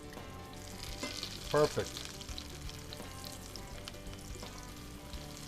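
Eggplant cutlets fry in hot oil with a steady, close sizzle, a brief louder crackle or clatter partway through, and a short spoken word over the frying.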